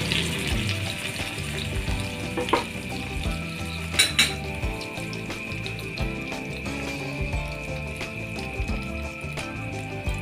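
Pork sizzles steadily on a grill, a dense continuous crackle with occasional metallic clinks and taps of utensils against the grate, close and fairly loud, no talking.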